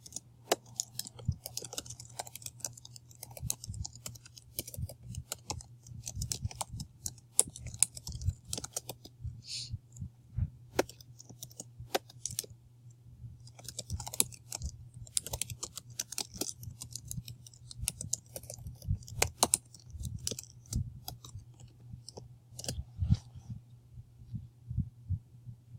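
Keys on a computer keyboard are tapped in irregular bursts of light, close clicks over a low steady hum, with brief pauses between runs.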